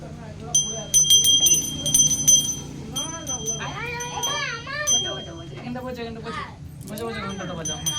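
A small hand bell rung during a Ganesh puja at home: bright, repeated tinkling strokes that come and go, mixed with a child's squeals and an adult talking nearby.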